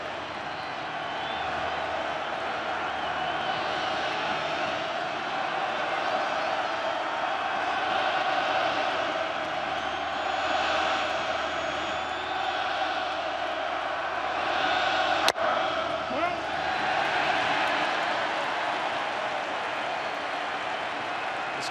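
A World Series baseball crowd in a stadium, a sustained roar of cheering and applause that swells and holds throughout, with a sharp crack partway through.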